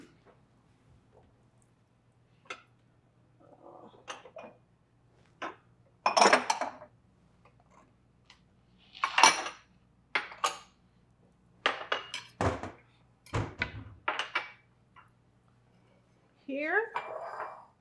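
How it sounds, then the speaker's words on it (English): Dishes and cutlery are gathered in a home kitchen, with scattered clinks, clatters and scrapes of plates and utensils arriving in irregular bursts, close and fairly loud, with short quiet gaps between them. "I'm going to grab some dishes."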